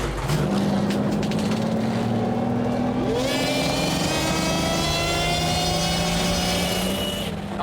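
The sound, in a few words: supercharged engines starting and revving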